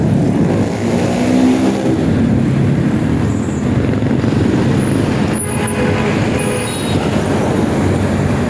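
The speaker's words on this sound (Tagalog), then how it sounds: "Maraming sasakyan dito." Cars and traffic on a busy road, a loud, steady roar of passing vehicles and engines close by, with rushing tyre noise throughout and no talk.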